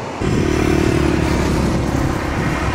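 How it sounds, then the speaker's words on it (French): Steady rumble of highway traffic close by, a continuous wash of engine and tire noise with no voices. "c'était un va-et-vient constant de voitures et tout ça"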